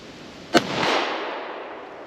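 A single sharp rifle shot from a Winchester Model 94 lever-action 30-30, fired outdoors at steel plates, cracking loudly up close and followed by a long fading echo.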